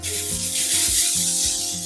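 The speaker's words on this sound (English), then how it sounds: "And the L'Oreal Infallible finishing spray" L'Oreal Infallible finishing spray misted onto a face in a steady hissing burst lasting nearly two seconds, close and clear over faint background music, with no talking.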